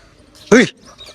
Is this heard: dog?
yes